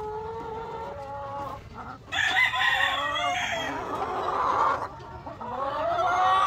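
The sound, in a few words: laying hens clucking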